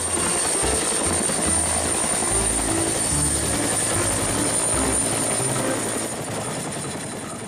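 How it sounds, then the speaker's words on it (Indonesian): A toy helicopter gives off a steady, loud whirring rotor drone with a high electronic whine on top, holding constant close by before easing slightly at the end. "Ini helikopter."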